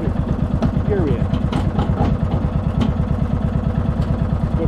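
A Murray garden tractor's small engine idles while warming up, a steady and close putter with an even, pulsing beat that never stops.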